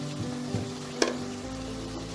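Spice paste sizzling in a hot pan for an eggplant kofta curry, with turmeric, salt, cumin and Kashmiri chilli powder added; a steady close fry with a couple of sharp stirring clinks, no voices.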